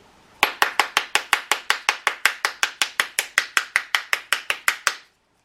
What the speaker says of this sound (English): Take our spoon and we're going to give it some gentle taps all the way around the outside rim.